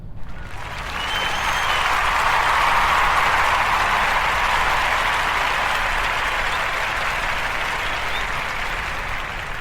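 Applause and cheering from a crowd during a podcast episode, a dense, steady roar that swells within the first second and holds near full loudness throughout, with no talking over it.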